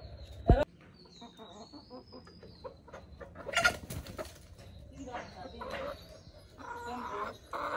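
Chickens cluck softly and intermittently at close range, with a sudden sharp knock near the start, a brief flutter midway and faint background voices.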